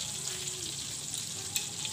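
Tempeh frying in a Teflon pan, a steady close sizzle with faint crackles throughout and no talking.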